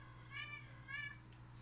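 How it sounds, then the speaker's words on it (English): A cat gives two quiet, drawn-out meows in quick succession over a low steady electrical hum. "he just meows and then goes under a chair"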